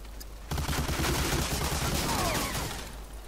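A grenade blast and gunfire in the multiplayer mode of Medal of Honor: Allied Assault Breakthrough: a sudden loud burst half a second in, followed by a dense, sustained barrage of shots that fades slightly toward the end.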